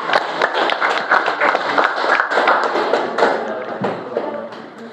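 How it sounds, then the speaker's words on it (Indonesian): A classroom of students claps in a brief burst of scattered, uneven applause, moderately loud and close. "tepuk tangan dulu ya"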